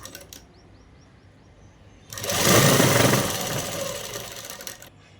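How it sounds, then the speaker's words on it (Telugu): A sewing machine stitches the edges of a dupatta, a steady mechanical whirr that starts about two seconds in and runs close and loud for roughly three seconds before fading out, with no talking. "చున్నీకి అటు సైడ్ ఇటు సైడ్ అనేది కుట్టు వేసేసుకున్నామండి."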